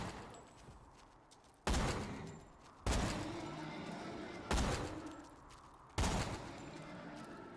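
Four loud sniper rifle shots in Borderlands 2, spaced roughly a second or two apart, each a sharp crack with a lingering tail over quieter game ambience.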